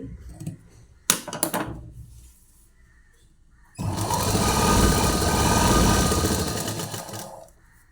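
A sewing machine stitches saree fabric. A few faint clicks and a brief handling clatter come first, then the machine runs in a steady, close whirring burst for about four seconds before stopping.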